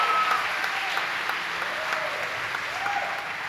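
An audience at a Bonita High School fall concert applauds the parent board and volunteers, a steady, full clapping from a crowd in a hall that holds evenly for the whole moment.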